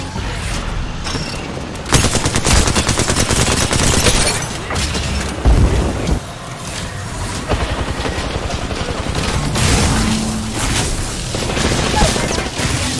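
Dense video game gunfire from a battle royale match, with rapid automatic bursts and booming shots layered continuously at close range, loud throughout, with players talking over it.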